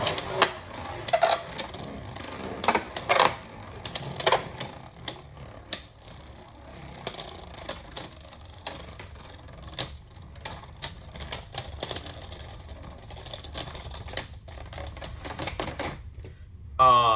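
Two Beyblade spinning tops, Union Achilles and Wizard Fafnir, clash in a stadium with rapid rattling clicks and sharp metallic knocks that stay fairly near and steady for most of the time.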